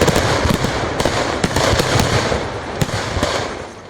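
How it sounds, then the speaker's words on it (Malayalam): Continuous explosions at a fireworks manufacturing unit on an islet crackle and bang in rapid, irregular bursts, with sharp loud reports standing out from a dense, rumbling wash of firecracker pops, and no voices. "തുരുത്തിലേക്ക് ആരെയും അടുപ്പിക്കാതെ തുടരെ സ്ഫോടനങ്ങൾ."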